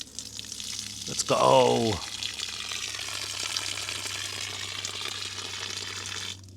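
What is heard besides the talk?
water running from a newly installed water tap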